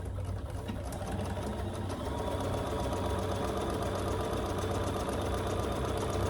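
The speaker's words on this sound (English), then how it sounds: "I'm gonna stitch over that folded edge first" A sewing machine stitching over a folded fabric edge for a tote bag, its needle hammering in a fast steady motor-driven rhythm, close and continuous without pause.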